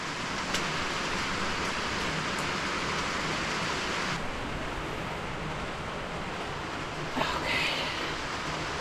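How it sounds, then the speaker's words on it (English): Heavy rain pours steadily onto a flooded farm barn as a dense, even hiss, with a brief louder knock or rattle near the end. "It's gonna rain like this for the rest of the day"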